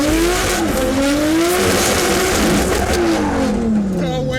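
A drift car's engine screams at high revs with rising and falling pitch sweeps, tire squeal and skidding layered over it, loud and close throughout at a drift event.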